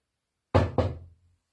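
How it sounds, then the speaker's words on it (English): Two sharp knocks, most likely on a door, in a cluttered hoarder's house, close and distinct in quick succession with a short decay, followed by silence. "There's 2 knocks."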